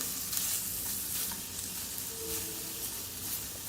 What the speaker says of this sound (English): we're going to go ahead and just get that to start to saute and soften up a little bit in the pot